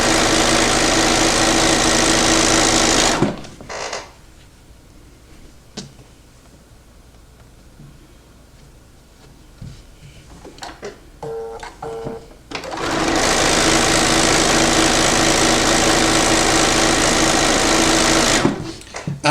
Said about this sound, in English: When I have a lot of straight stitches like this that I just want to get done fast